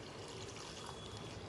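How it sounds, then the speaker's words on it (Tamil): About five cups of water pour into a pan of roasted chicken for kabsa rice, a faint, steady rushing stream that runs continuously without pause or speech. "இப்போ ஒரு 5 கப் அளவுக்கு தண்ணி சேர்த்துக்கிறேன்."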